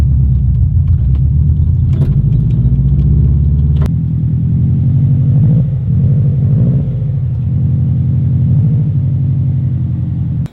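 Interior rumble of a car on the road as the driver works through manual gear shifts, a loud, steady low engine drone with brief breaks and pitch changes at each shift, no talking.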